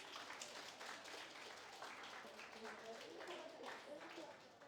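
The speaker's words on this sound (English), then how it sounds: "Clap for yourselves." An audience claps together in a steady burst of applause that runs throughout, fairly loud and sustained, with some voices mixed in.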